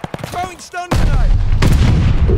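A stun grenade detonates in a Call of Duty Vanguard multiplayer Domination match, a sudden loud blast after a shouted voice, followed by a sustained rumbling roar.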